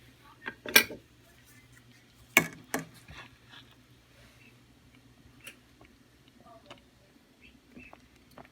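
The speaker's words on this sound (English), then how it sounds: "it's time to ladle into the jars." Strawberry pie filling ladled into glass canning jars, with sharp clinks of a metal ladle against glass and faint scraping between a few separate knocks.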